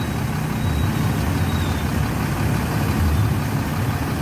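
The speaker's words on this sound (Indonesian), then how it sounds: "Simpatistar Nopin 21 mesinnya sudah dinyalakan" The engine of a Sempati Star bus idles steadily up close, a loud, continuous low rumble with no voices over it.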